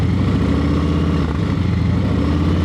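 Motorcycle engine held steady at preload during slow-speed riding practice, a continuous low rumbling drone with a steady throb that stays close and loud throughout, no speech.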